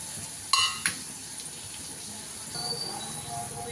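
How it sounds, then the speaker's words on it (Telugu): Bottle gourd and coconut pieces fry in a pan with a low, steady sizzle, broken by a couple of sharp utensil clinks near the start and a slightly busier stretch of stirring toward the end. "ముందు ఆనపకాయ ముక్కలు వేసి వేయించుకోవాలి"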